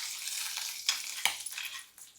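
About ten cashews are frying in a pan for mint rice, making a faint, close sizzling hiss with a couple of light metallic clinks during a brief moment.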